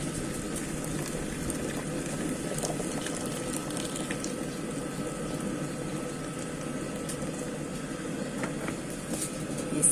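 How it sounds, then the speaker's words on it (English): Hot water poured into a simmering pot of goat meat and vegetables makes a soft, continuous bubbling and hiss, faint and steady throughout with no voices. "Now friends, it's time for us to add our hot water."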